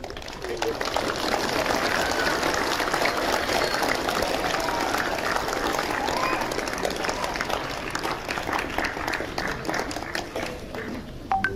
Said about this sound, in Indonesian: Tepuk tangan untuk para guru.